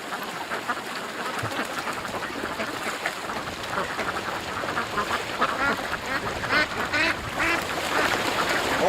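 Ducks quack repeatedly by cool water outdoors, a cluster of nasal calls over a rustling background that grows busier and a bit louder toward the end.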